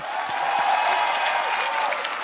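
A studio audience applauds at a televised rock band competition show, dense, even clapping held at a steady level for a couple of seconds, close and full, no speech over it.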